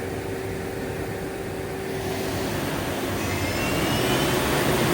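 A Doosan Puma 2600Y CNC lathe, a 2014 machine, with its spindle running at 2000 RPM: a steady, loud mechanical whine and airy roar that swells slightly louder toward the end, with a constant high tone above.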